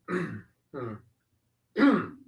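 Someone clears their throat three times in a row, the bursts short, close and rough with brief pauses between them, and no other sound around them.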